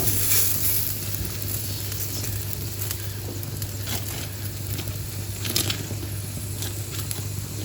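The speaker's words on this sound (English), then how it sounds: "Gently cook this paratha." Aloo paratha cooking gently in a hot, thin-based paella pan on low heat, a quiet steady sizzle with occasional small crackles and pops, close and unbroken, no voices.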